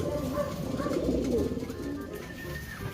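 Racing pigeons feeding in their crates ahead of a first-lap derby coo softly and repeatedly, low murmuring calls overlapping close by against a quiet background.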